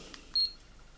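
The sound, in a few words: Firefly 8SE camera beep when pressing the shutter button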